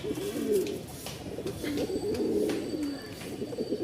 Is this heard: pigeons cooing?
yes